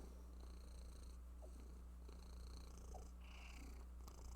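A cat purrs steadily and close by for several seconds, a low continuous rumble with no talking over it.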